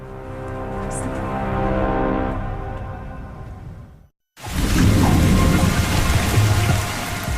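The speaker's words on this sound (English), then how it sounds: "A heavy rain soaks a small airport in Dubrovnik, Croatia." Heavy rain pours down on a small airport in Dubrovnik, Croatia, with a low rumble, cuts out briefly, then returns as a louder, dense downpour drumming on surfaces.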